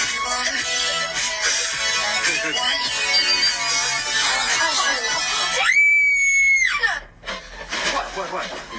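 A girl's piercing scream, a sustained high shrill cry lasting about a second after a stretch of busy talk and music, ending abruptly before voices resume.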